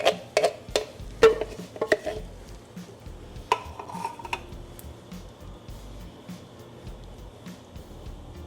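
A spoon knocks and scrapes against a pot while tomatoes are stirred into cioppino, a run of loud clinks early on thinning to quieter scraping and soft sizzle.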